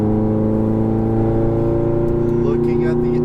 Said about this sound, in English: as you accelerate, we're going to rev the car up more